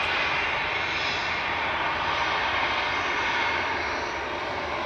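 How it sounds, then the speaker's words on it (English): Jet airliner engines roar steadily as a Boeing 737-800 departs Manchester Airport, a loud, continuous broadband rumble that holds for the whole stretch with no talk over it. "with flight 505 departing in front of us there, 737-800"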